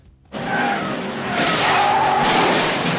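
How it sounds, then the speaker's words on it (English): Car engines roar and tyres skid in a racing sound effect for a vintage Mad Max-style car wars board game, a loud continuous screech of burning rubber that surges after a brief quiet start and holds steady to the end. "roaring those engines, and burning some rubber as we fang it down Thunder Road"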